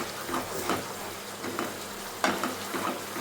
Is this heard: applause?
no